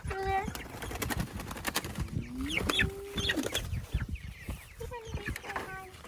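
Chickens clucking and squawking close by, several birds calling over one another, with a person talking intermittently among them.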